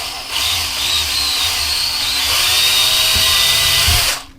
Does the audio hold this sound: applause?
no